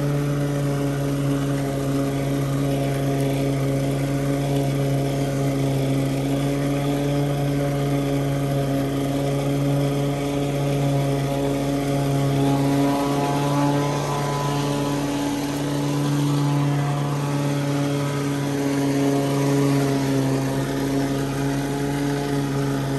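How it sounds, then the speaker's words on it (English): Exmark Commercial 30 lawn mower engine with its baffle removed, running at steady high RPM while cutting a lush, thick lawn; a continuous, loud, droning hum with strong harmonics and a slight dip in load midway. "you can hear from the engine RPM that it's doing quite well with that baffle removed, getting through this very lush and thick lawn"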